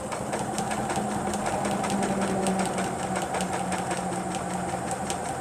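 A sewing machine runs steadily at speed on fabric scraps with a loose top thread, a continuous mechanical whir with a rapid ticking rhythm of needle strokes, close and uninterrupted.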